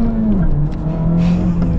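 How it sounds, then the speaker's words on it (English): A 2017 Honda Civic Type R pulls away with its engine rising in pitch, sounding close and loud as a steady drone from inside the car, with a little background speech. "We're setting off here in the Type R."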